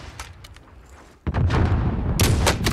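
Sniper rifle fire in Call of Duty Warzone, coming from behind: one sharp, loud crack after a quieter stretch, followed by sustained heavy gunfire and a few bright bursts, with no talk.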